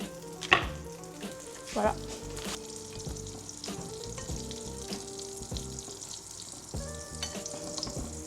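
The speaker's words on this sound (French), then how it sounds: "Là du coup je mets un petit peu de beurre dans la poêle." Butter sizzles and fries steadily in a frying pan through the whole stretch, with a few clinks and scrapes of utensils and a brief spoken word near the start.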